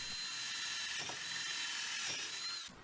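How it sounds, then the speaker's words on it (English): A drill bores through a reclaimed wood breadboard-end dado into a backer board, a steady high grinding whine that runs nearly unbroken for about three seconds before cutting off. "I drilled each hole all the way through both sides of the dado into a backer board"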